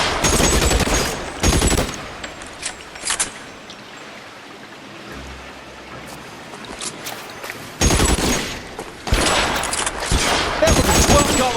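Repeated gunfire bursts from L.A. Noire, loud rapid volleys near the start and again in the last third, with a quieter rumbling stretch between them.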